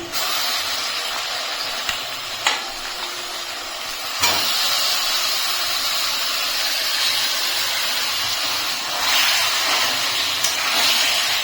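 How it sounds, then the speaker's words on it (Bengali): Marinated chicken dropped into a hot pan with tomato, a loud steady hissing sizzle that swells and holds, with a few clinks and no talking. "এখন আমি এর ভিতরে দিয়ে দিচ্ছি ম্যারিনেট করে রাখা চিকেন।"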